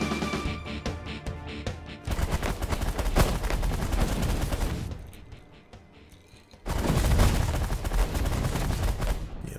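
A spaceship's guns fire in The Last Federation space strategy game as loud, rapid crackling volleys that rattle on, drop briefly into a quieter stretch, then slam back in at full force. Nobody speaks.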